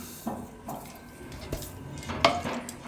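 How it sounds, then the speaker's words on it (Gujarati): Semolina goes into a bowl for a coconut cake and gets stirred, making a few light scrapes and clinks of a utensil against the bowl that close with a brighter metallic knock. "હવે આમાં સૂજી નાખી દેવું"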